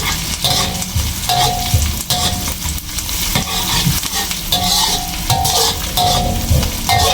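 Onions sizzle steadily in a hot pan while a utensil stirs and scrapes, with a rhythmic clink against the metal.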